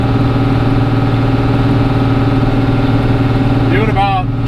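A Cummins 12 valve dually truck pulls a 32-foot fifth wheel up a steep climb in second gear. The engine drones steadily at about 2,300 RPM, loud and continuous, with a brief chirping sound near the end.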